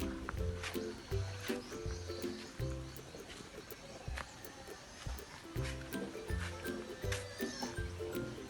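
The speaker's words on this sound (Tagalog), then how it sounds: "Ingay yung baboy." Pigs grunt and squeal in repeated low bursts, fairly close, over an outdoor background with faint other noises.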